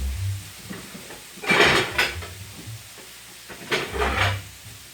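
Plates and dishes clatter in two bursts as one is taken from a kitchen cupboard, with low rumbling handling noises between them and no talking.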